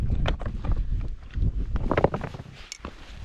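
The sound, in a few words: wind blowing on mountain hike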